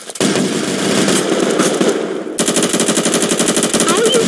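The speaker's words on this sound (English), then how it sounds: "how do you shoot while you're jumping?" Rapid automatic gunfire in the video game Roblox, fired while the player character jumps: a dense burst of shots, a short pause, then another loud rattling stream of rounds.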